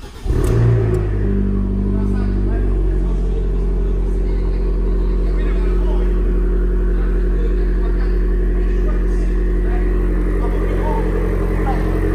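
A yellow car's engine starts with a brief cranking burst, then settles into a steady, loud, low idle rumble that continues throughout.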